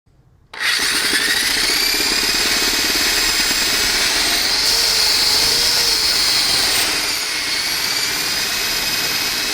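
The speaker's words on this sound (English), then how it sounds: "I got my drill ready with a drill bit, and then I'll make the hole." A power drill with a bit bores a hole through plastic during an A/C evaporator replacement on a Ford Ranger, Explorer 5.0 V8 or Mazda B series, starting abruptly and whining loud and steady at close range for several seconds.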